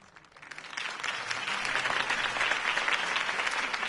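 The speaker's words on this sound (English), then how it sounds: "could have heard that applause" Steady applause from a crowd in the video game Batman: The Telltale Series swells in over the first second and then holds as a dense, continuous clapping that fills the whole stretch.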